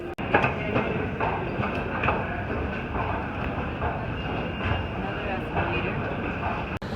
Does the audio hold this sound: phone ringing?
no